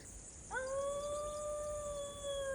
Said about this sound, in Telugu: ఈ కుక్క ఇక్కడ మొత్తుకుంటుందా అటు పక్క నుంచి